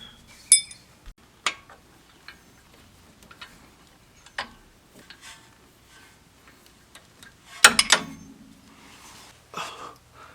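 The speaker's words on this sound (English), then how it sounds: "with an Allen wrench, or sorry, Allen key wrench, we're going to go ahead and tighten up the bolt up here" Allen key wrench tightening a bolt with a flange nylon nut during a Jeep JL Metalcloak lift install, heard as sparse metallic ticks and clicks in a quiet garage, with a louder clatter near the end.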